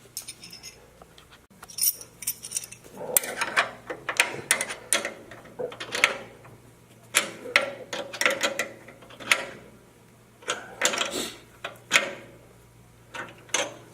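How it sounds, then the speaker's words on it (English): A ratchet wrench tightening bolts in a crisscross pattern while assembling a Harbor Freight wood chipper, with bursts of rapid close clicking and metallic clinks separated by short pauses. "we can go on a crisscross pattern to fully tighten the bolts"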